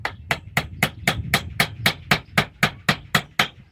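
Hammer blows drive a nail into soffit and fascia wrap at a house, with about thirteen sharp, evenly spaced strikes, close and loud, and no voices between them.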